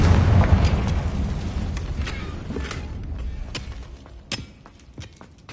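A Confringo fire spell in Hogwarts Legacy detonates with a loud, low boom that rolls and fades over several seconds, followed by scattered fainter cracks and thumps.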